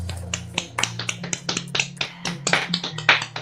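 Rapid irregular hand claps or snaps, a dozen or more sharp bursts in an uneven rhythm, loud and close with a faint hum beneath.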